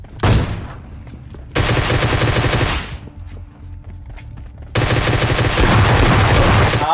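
Automatic fire from a Groza rifle in a shooting video game: loud sustained bursts of rapid shots, split by a short pause and then a long second volley.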